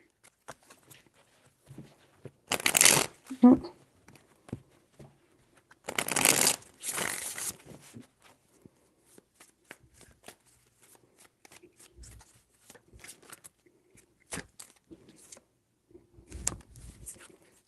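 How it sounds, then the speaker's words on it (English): Tarot cards are shuffled in three separate bursts of riffling and flapping, with soft taps and handling noises in between, close and fairly quiet. "Three shuffles."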